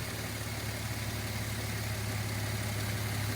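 A Subaru Tribeca engine idles with its AC compressor running during a refrigerant recharge, giving a steady, close, unbroken mechanical hum with no talking.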